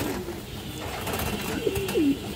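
A female pigeon gives two short, close coos near the end against a faint room hum.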